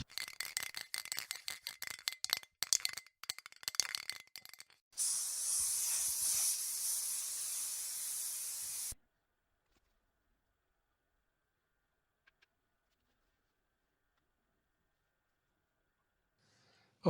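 A can of spray primer hisses in a steady, continuous burst for about four seconds, preceded by rapid rattling and clicking of the can, then cuts off abruptly into near silence.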